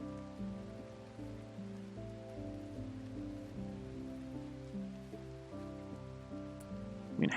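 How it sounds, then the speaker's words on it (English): Steady rain hissing down on a RimWorld medieval colony, flooding the fields, a soft continuous wash under sustained background music tones throughout. "the amount of rain is flooding everything"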